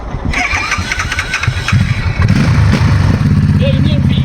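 A PF Moto 600cc V-engine motorcycle starts up close by and settles into a rumbling, loping idle, with a brief rev.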